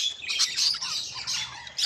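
Poultry kept alongside broilers squawk and chirp in a continuous, busy high-pitched chatter close by, several birds calling over one another without pause.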